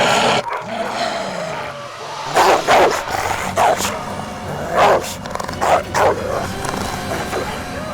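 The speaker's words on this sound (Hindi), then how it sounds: "ये तुम्हारे बीमार कुत्ते?" Several dogs bark in a short cluster of sharp, repeated woofs, fairly close and loud, with a voice speaking before the barking starts.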